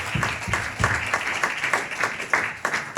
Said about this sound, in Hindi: प्रभु के लिए जोरदार ताली हो जाए।